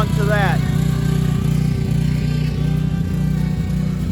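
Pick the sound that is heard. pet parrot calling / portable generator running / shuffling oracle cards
portable generator running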